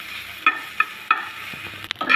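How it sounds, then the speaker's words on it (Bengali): Chopped onions frying lightly in a pan for a bean mash, heard as a soft steady sizzle broken by a few sharp stirring scrapes and clinks at regular intervals, close by with no talk. "পেঁয়াজটা একটু হালকা ভেজে নিচ্ছি।"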